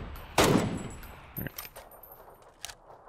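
Gunfire in the battle-royale game PUBG: one loud close shot burst followed by a few fainter, sharper distant reports spaced irregularly, with no talking.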